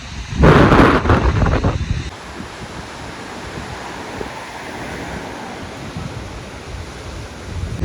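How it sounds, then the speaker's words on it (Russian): Strong, cold mountain wind on the Transfagarasan road buffets the microphone in loud roaring gusts for the first couple of seconds, then settles into a steady, lower rushing noise. "Очень-очень холодно, очень сильный ветер."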